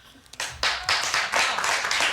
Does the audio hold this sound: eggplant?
no